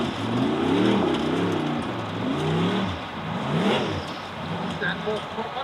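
Formula offroad race car engine revving hard at a Norwegian championship round in Telemark, rising and falling pitch sweeps in repeated bursts, fairly close and loud, with a commentator talking over it.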